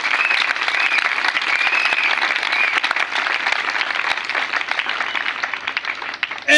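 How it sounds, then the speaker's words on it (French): A congregation at an evangelistic campaign claps together in a loud, sustained burst of applause that fills the room and tapers a little toward the end. "On peut applaudir le Seigneur."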